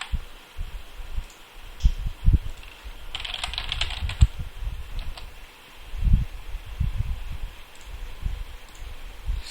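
Fingers type a new user's password on a computer keyboard, with a run of soft, close key taps and a few brief pauses.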